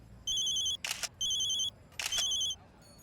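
A phone rings in repeated electronic bursts, three trilling rings separated by short bright buzzing pulses, faint and alone against quiet room tone.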